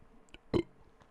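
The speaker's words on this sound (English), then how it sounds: "Just had some Domino's pizza, so that was a delicious burp." One short, loud burp after eating Domino's pizza, close to the microphone in a quiet room, with faint clicks before and after.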